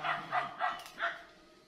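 Hunting dogs in training on a rural outing bark four times in quick succession, moderately close, with short gaps between each bark and no voices over them.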